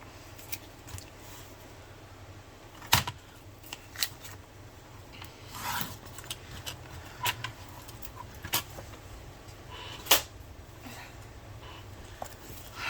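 Faint snipping and rustling of a paper cash envelope being cut open close by, with a few sharp clicks and crinkles over a low steady background hum.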